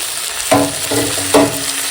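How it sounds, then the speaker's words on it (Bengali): Chopped tomatoes drop into hot oil already holding fried potatoes and slit green chillies, giving two loud bursts of sizzling with clattering stirs between them, close and steady throughout. "আর এখন দিয়ে দেব যে কেটে রাখা টমেটো"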